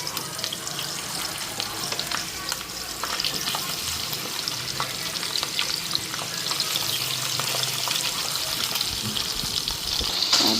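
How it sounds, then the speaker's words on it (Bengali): Fish frying in oil in a wok, a steady crackling sizzle that carries on close and fairly quiet for about ten seconds with no talk over it. "মাছটা আগে ভাজা করুম"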